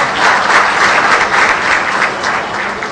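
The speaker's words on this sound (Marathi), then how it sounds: "एकदा महाराष्ट्र टाइम्ससाठी जोरदार टाळ्या घायला पाहिजे" A seminar audience breaks into loud, dense applause, a sustained wash of many hands clapping close by at steady volume for nearly three seconds.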